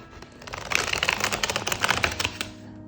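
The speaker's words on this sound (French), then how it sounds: "Je vais faire un tirage en croix pour qu'il soit vraiment très, très simple et concis en allant cueillir les cartes." Tarot cards shuffled and drawn for a simple cross-spread reading, a dense run of quick papery flicks and soft clicks for about three seconds with no voice.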